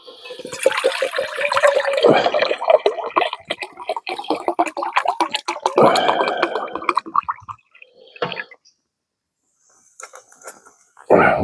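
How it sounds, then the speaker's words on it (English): Water poured into a Stanley cooking cup, a close gurgling and splashing stream lasting several seconds, then brief trickles and a final clink. "Put some water in here."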